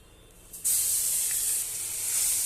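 Ginger-garlic paste mixed with salt, turmeric, chili powder and coriander-cumin powder hits hot oil for a chhana potol curry, bursting into a loud, steady hiss that starts abruptly and sizzles on without a break.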